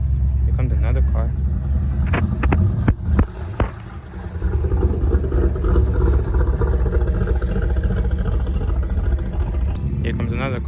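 A car rolls into a car show in Robesonia, Pennsylvania, its engine a low, steady rumble close by, with someone talking over it and brief louder bursts partway through.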